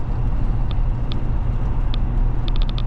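Pickup truck towing a trailer at highway speed, a steady broadband road and engine drone with a few faint clicking ticks near the end.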